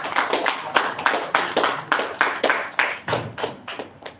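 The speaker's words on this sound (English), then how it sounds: "give him a ovation with a huge round of applause" Members of a Toastmasters club clap together after a speech, a close, moderately loud round of applause with rhythmic, distinct hand claps repeating steadily throughout.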